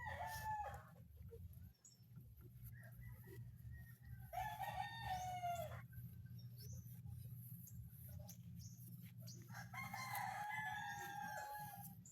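A red junglefowl rooster, a wild-caught bird, crows three times in loud, close, drawn-out calls spaced several seconds apart, over a steady low rumble of background noise.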